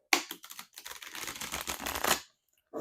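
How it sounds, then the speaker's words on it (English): Tarot cards being shuffled by hand in a quiet room, a close, crisp run of rapid clicking riffles that stops abruptly near the end. "as I'm shuffling these cards"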